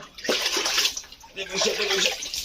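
Water splashes and sloshes in a tub during a small child's bath at home, close and continuous, with a voice talking over it.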